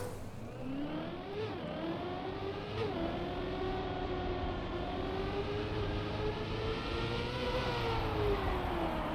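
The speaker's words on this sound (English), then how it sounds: "You could hear the gear made a weird noise, and the car slowed down a lot" A Trackmania video game car engine drones steadily with whining harmonics that dip sharply as a gear shifts oddly, then climb and hold as the car slows, loud and continuous without talk.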